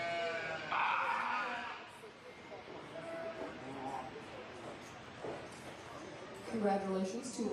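Dark-faced market lambs bleating at a youth agriculture expo livestock show, several wavering calls rising over a busy hall while an announcer talks over the crowd.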